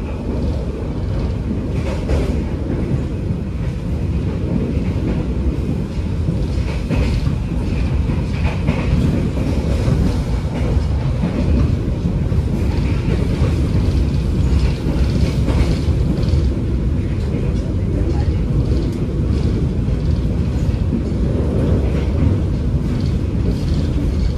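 KA Pandalungan passenger train crossing the Porong bridge, a loud steady rumble with rhythmic clickety-clack of wheels on rails, heard from on board.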